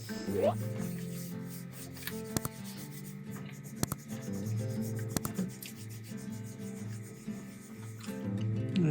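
Hands rubbing bare skin together to warm up in cold weather inside a camper truck, a soft close brushing friction over a low engine-like hum, with a few sharp clicks.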